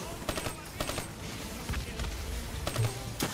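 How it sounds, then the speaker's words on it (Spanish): Scattered shots and short automatic bursts in Call of Duty: Black Ops 3, a few sharp reports spaced across a noisy battle backdrop with low rumbling, no clear speech on top. "No sé, pero no me gustan esos disparos."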